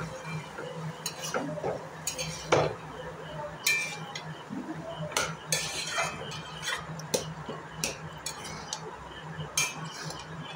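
Boiled chickpeas and potatoes with spices being stirred in a pan, with scattered clinks and scrapes of a spoon against metal over a faint background, irregular strokes spread across the whole stretch.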